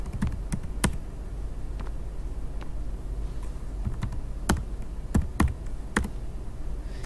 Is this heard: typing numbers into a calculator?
yes